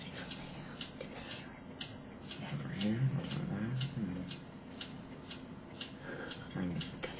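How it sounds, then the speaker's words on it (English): A steady, faint ticking like a clock repeats at an even rhythm throughout, with people talking over it and a louder burst of voices near the middle. "What is that mysterious ticking noise?"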